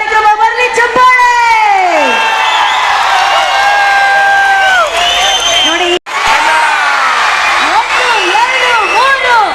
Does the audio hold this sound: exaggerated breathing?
no